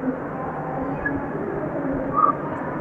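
A train rumbles steadily at the Mumbai CST station platform, close and continuous, with faint background sounds of the station.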